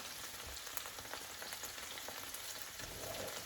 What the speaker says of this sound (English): Then you know you can add your meatballs. It's hot enough.